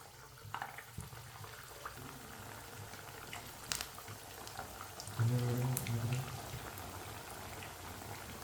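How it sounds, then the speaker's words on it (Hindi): Potato tikki patties fry in hot oil in a pan with a soft, bubbling sizzle and scattered crackles, a louder burst of spitting midway, and faint speech in the background. "एक एक टिक्की उठाएंगे और पैन में इस तरीके से आपने ऐड कर देनी है।"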